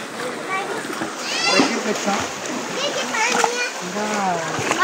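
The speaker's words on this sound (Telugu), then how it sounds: "ఇలాగే వాటర్ ఫాల్స్ వస్తూనే ఉంటాయి" Water splashing at Penchalakona waterfall, a steady close wash of splatter running throughout while a child and other people talk and call out over it.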